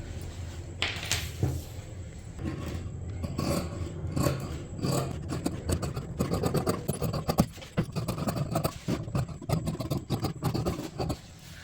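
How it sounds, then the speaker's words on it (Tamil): Scissors snip through blouse fabric along marked lines, a steady run of close, crisp cutting strokes and scraping against the cloth and table, without talk. "இப்போ நம்ம ஃபுல்லாக மார்க் பண்ணிட்டோம் ஃப்ரண்ட் பீஸு இப்போ இதை கட் பண்ணி எடுத்துடலாம்"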